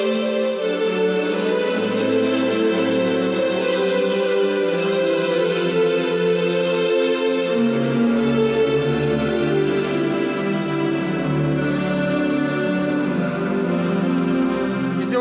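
An electronic keyboard plays sustained chords in a strings tone. Smooth, layered, full-sounding harmonies shift from chord to chord without pause, loud and close, with no talking.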